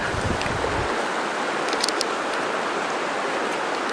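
River water rushing steadily through the Zion National Park Narrows, a broad continuous wash of flowing noise close by with no voices.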